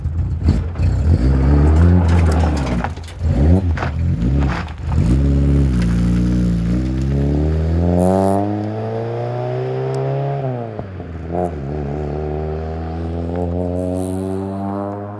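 Cars pass nearby while descending a hill, their engines rising and falling in pitch as they go by, loud at first and easing off toward the end.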